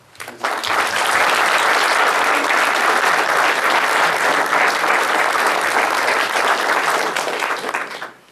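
Sustained applause from a large conference audience welcoming a speaker, rising quickly, holding steady for several seconds, then fading at the end.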